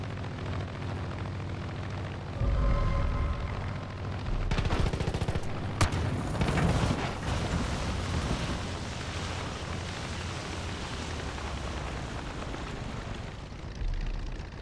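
In the game Far Cry 5, an airplane crashes and explodes with a heavy, sustained roar of blasts and rumbling debris that stays loud and dense throughout, with no speech.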